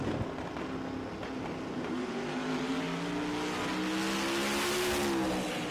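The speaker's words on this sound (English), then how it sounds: "I want this white Camaro in the left lane to stand it on the bumper and drive it all the way out." A white Camaro makes a drag racing run at Kil-Kare Dragway, its engine droning loudly at a distance and the pitch climbing steadily as it accelerates down the strip, over a constant crowd and track wash.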